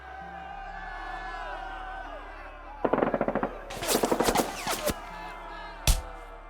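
Simulated machine-gun gunfire in a Konflikt '47 tabletop battle between Japanese troops and a Volksgrenadier squad, heard as loud rapid bursts of shots in two volleys over a low music-like background, ending with a single sharp blast.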